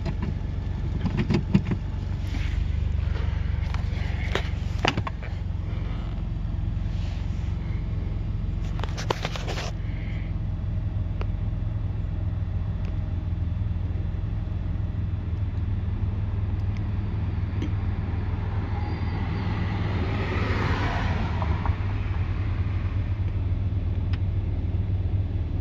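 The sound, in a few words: car engine idling after O2 sensor replacement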